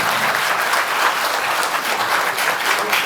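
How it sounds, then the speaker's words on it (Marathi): A college audience at a road safety awareness event breaks into loud, sustained applause, many hands clapping densely and evenly throughout with no pauses. "आवडलं असेल तर माझ्यासाठी जोरदार टाळ्या झाल्या"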